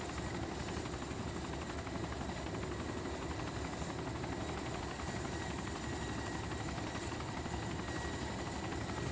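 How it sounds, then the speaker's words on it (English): Helicopter flying in the video game DayZ, a continuous loud rotor thump and engine drone heard from inside the aircraft, steady throughout with no voices. "This is a slower helicopter"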